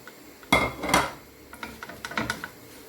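Pasta stirred around in a pot of water with a utensil, making close metallic scrapes and knocks against the pot, two louder strokes at first and then lighter, quicker clinks.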